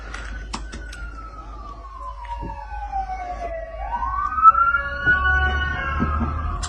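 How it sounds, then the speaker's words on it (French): A wailing siren from a passing ambulance in the United States sweeps slowly down and back up in pitch, with traffic rumble and a few knocks underneath and no talking. "Attention, on est aux States ici. Il y a les ambulances qui vont passer."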